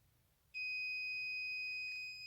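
A multimeter gives one steady, high-pitched beep during a continuity check on the instrument cluster pins of a 2009 Ford F350 6.4L Super Duty. The tone comes in clean after a short quiet pause and holds for nearly two seconds, close and alone.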